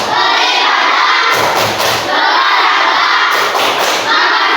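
Classroom of children at a school chanting in unison with loud rhythmic claps and thumps, shouted voices close and energetic throughout.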